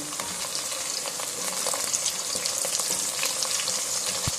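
Sliced onions and green chillies fry in a pan for chicken imrani, a continuous loud close sizzle with occasional stirring scrapes and no voices.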